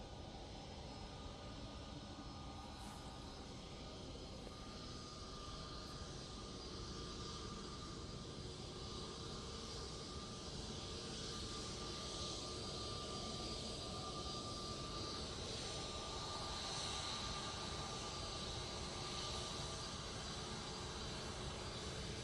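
EasyJet airliner in Zorro livery departing Manchester Airport for Lisbon, a steady broadband jet roar heard at a distance, holding level for the whole stretch with no talk over it.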